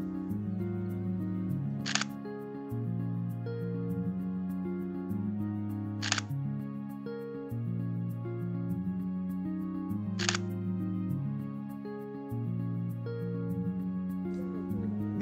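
A Nikon Z50 with a NIKKOR Z DX 50-250mm lens fires its shutter at 1/1600 s in shutter-priority mode. Three single crisp clicks come about four seconds apart over steady background music.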